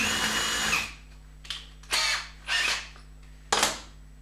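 A power drill with a small bit whirs for about a second, then gives four short bursts separated by quiet pauses, close by, with no speech; the bit is slipping.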